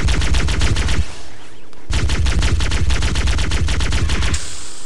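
Automatic assault rifle in Halo: Combat Evolved firing loud sustained bursts of rapid shots, a brief pause after about a second, then another long continuous stream that cuts off abruptly.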